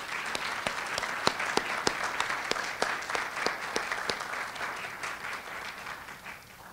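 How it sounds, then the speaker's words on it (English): Audience applause at an education awards ceremony honoring winners, moderately quiet with a few sharp individual claps standing out from the crowd's patter, tapering off at the end. "Let's give them one more round of applause."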